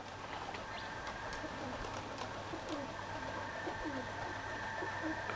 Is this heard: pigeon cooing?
yes